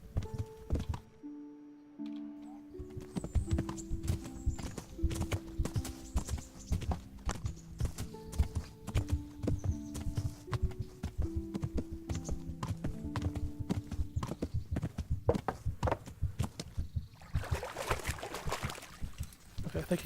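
Horse hooves in the medieval video game Kingdom Come Deliverance clip-clop in a steady walking rhythm throughout, close and clear over soft game music, with a brief rustling burst near the end and no talk.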